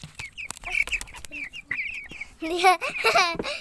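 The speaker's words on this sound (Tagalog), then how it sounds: "Yan po ang aking mga sisiw. Ayan, tuka daw nila." Pet chicks kept at home pecking at food, giving high thin peeps and chirps in quick bursts close by, with light pecking taps, while a person speaks over them.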